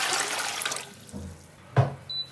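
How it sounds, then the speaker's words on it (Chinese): Clear water is poured into a steamer pot, a brief splashing rush that tapers off, followed by a short knock of the pot, close up and with no talking. "接下来蒸锅里面多倒一点清水"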